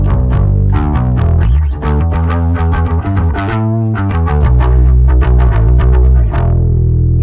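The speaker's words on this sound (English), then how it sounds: "Right when the gain really starts to kick into a distortion sound, there's a high mid that kicks in." Heavily distorted bass guitar through a budget distortion pedal with tone and volume fully up, playing a busy riff of punchy, gritty notes, loud and continuous with a growling high-mid edge.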